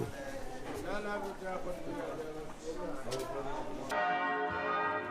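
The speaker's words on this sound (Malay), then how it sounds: "Gema loceng gereja Holy Sepulchre melenyapkan suara para pelawat yang hadir dari pelbagai pelosok dunia" The bells of the Church of the Holy Sepulchre in Jerusalem's old city ring out and echo steadily while a voice talks over them. The bells sound clearer and more resonant toward the end.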